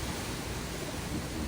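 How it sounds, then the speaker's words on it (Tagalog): Strong wind roars steadily, a dense broadband rush buffeting the microphone with no pauses. "ang lakas ng hangin"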